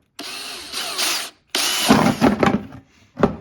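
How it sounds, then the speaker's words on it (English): A power drill whirs in two bursts, the second growing rougher and choppier as it bites through a thin plastic Swiffer bottle, then a short final spin. "I'm going to drill a hole in this really quickly"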